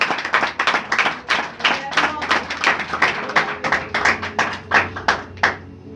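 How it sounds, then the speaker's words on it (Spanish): A church congregation claps together in a steady, roughly rhythmic beat, loud and close, the hand claps forming distinct repeated bursts with a voice and a sustained musical tone underneath. "dale un aplauso al Señor en el nombre de Jesús"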